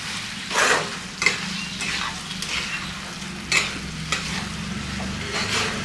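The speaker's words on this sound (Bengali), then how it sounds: "এই চালটা দিয়ে ভালো করে নাড়াতে হবে এখন" Rice stirred into frying spices in a pan for a fish head muri ghonto, with repeated scraping spoon strokes over a steady low sizzle, close by.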